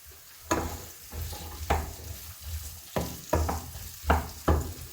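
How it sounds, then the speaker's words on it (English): Potatoes and onions frying together in a pan, with a continuous sizzle broken by repeated scraping stirs and knocks of the spoon at a steady, uneven rhythm, close and fairly loud. "just throw them into this pan so that they could cook together with the onions and give it a nice mix"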